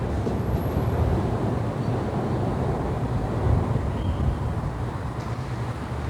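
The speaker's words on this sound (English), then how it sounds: "but the train is going just above us." A steady, low rumbling roar fills the space, muffled and distant-sounding, as a subway train passes directly overhead through a house in Berlin.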